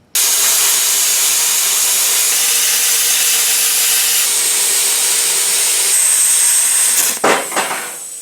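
A hole is cut in shaped sheet metal for a Moto Guzzi dustbin-fairing build, making a loud, steady, hissing roar for about seven seconds. The roar ends in a brief clatter and then fades.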